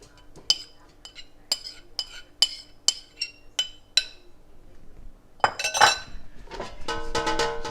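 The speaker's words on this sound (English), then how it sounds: "So now we're just gonna put that into the air fryer." Marinated seitan goes into an air fryer with a run of sharp metallic clinks and taps from utensils and the basket, followed by a busier clatter and rustle near the end.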